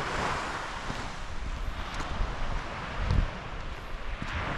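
Waves wash against the shore of Lake Togo in Tottori, Japan, a steady broadband surf rush mixed with wind buffeting the microphone, with one heavier swell near the end.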